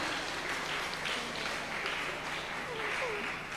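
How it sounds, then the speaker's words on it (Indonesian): Applause for children from a crowd at a graduation ceremony, a steady broadband patter of clapping holding at moderate level for the whole stretch, with faint voices underneath. "Tepuk tangan untuk anak-anak"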